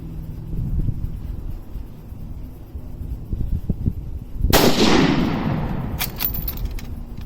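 A PTR 91 rifle, an HK 91 clone, fires outdoors: one loud, sharp shot with a long rolling echo, then a quieter crack about a second and a half later over steady wind noise.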